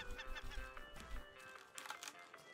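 Bird calls in the survival game Raft, a few short squawking, honking cries over a steady game ambience, moderately faint, with no talk.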